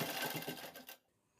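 A sewing machine stitches a shirt cuff in a quick, rattling burst of about one second, close and fairly quiet, then stops abruptly into near silence.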